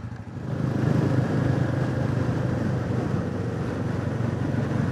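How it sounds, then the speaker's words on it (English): Royal Enfield 350 motorcycles ride through the Northumberland countryside, their engines giving a steady, fairly loud low thrum that holds evenly after a quick rise at the start. "enjoy the noise of the Enfields pumping away through the country"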